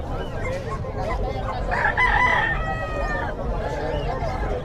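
A large rooster crows once at a busy chicken market, a drawn-out, wavering call close by, with men chatting in the background and other fowl clucking around it.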